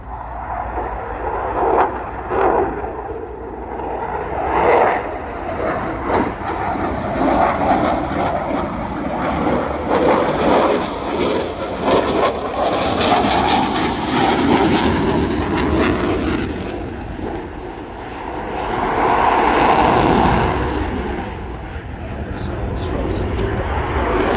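A Eurofighter Typhoon fighter jet with twin Eurojet engines roars at the RIAT airshow, a loud, sustained rumbling thunder that swells and recedes as it passes overhead and stays continuous throughout.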